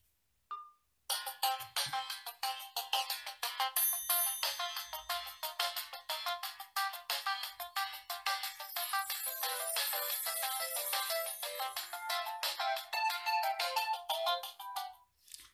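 A bright electronic ringtone from a Crosscall Trekker X2 phone plays a quick repeating melody for about fourteen seconds, steady and moderately loud, with no voices.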